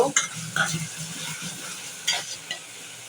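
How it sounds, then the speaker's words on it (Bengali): Potatoes frying in a pan for a home-cooked fish dish, a soft continuous sizzle broken by sharp scraping and clinking as a utensil stirs them, a few louder knocks against the pot. "এখানে আলু দিয়ে দিচ্ছি। আলুগুলো ভালো করে কষিয়ে নেব।"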